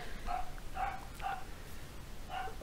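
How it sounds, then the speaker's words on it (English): Several dogs bark in a rhythmic series of four short yaps at moderate distance, with faint background ambience and no talk. "I will continue despite the barking of the dogs."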